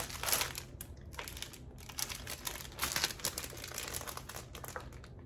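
Plastic packaging around a pack of 50 sheets of DTF transfer film is opened, giving continuous close crinkling and crackling with sharp bursts and brief pauses.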